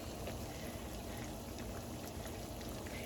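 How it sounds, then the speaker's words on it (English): Soft, continuous crackling and bubbling of salmon patties frying in oil over medium-high heat, faint and even throughout, with no speech. "So we're going to place those in there and let those fry."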